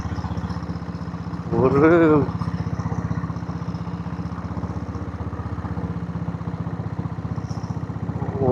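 A diesel Royal Enfield Bullet climbs a hill road to Yercaud at a steady pace, its engine thumping in a close, even rhythm while someone briefly speaks over it.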